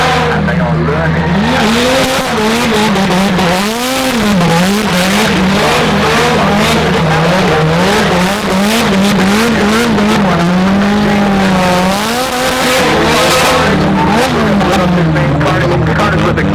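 Race cars are driven hard at the 2017 Goodwood Festival of Speed, their engines loud and close, revving up and down continuously with rising and falling pitch sweeps and hints of tyre squeal.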